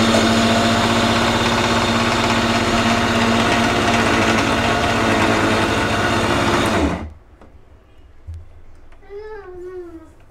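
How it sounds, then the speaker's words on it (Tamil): An electric mixer grinder whirs loudly and steadily as it grinds jaggery with sesame seeds, then cuts off abruptly after about seven seconds, followed by faint handling and a brief high squeal. "வெல்லம் போட்டு லைட்டாக அரைச்சிக்க போகிறோம்."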